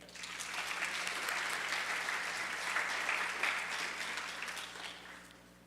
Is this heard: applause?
yes